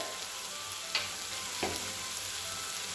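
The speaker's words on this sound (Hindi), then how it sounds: "अब इन सभी मसालों को हम टमाटर के साथ अच्छे से मिक्स करके इसे भी 1 से 2 मिनट के लिए भून लेंगे" Tomato masala with coriander powder and red chili powder frying in oil in a kadhai, a steady soft sizzle throughout with a couple of faint stirring scrapes, no voices.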